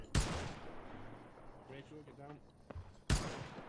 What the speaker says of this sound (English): No, that grenade was short.